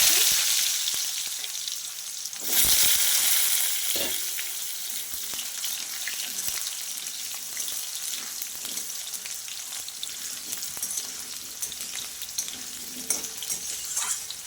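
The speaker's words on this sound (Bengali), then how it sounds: "আলুটা একটু ভালো করে আমি ভেজে নেব" Potatoes fry in hot oil with a bay leaf, giving a loud, bright, continuous sizzle. An occasional stir or clatter breaks through the crackle, which settles slightly softer over time.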